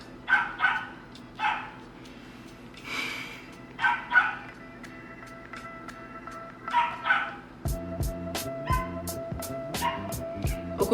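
A neighbor's dog barks repeatedly in the distance, with sharp yips and barks spaced irregularly apart. A steady electronic tone and clicking come in partway through, and no one speaks over it.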